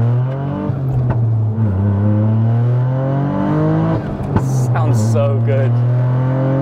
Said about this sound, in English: That turbo sounds incredible.